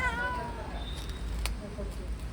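A cat meows in a drawn-out, wavering cry over a low background rumble, followed by faint softer mews.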